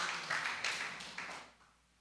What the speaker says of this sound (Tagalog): Pumalakpak nga ang mga spiritual na tao dito.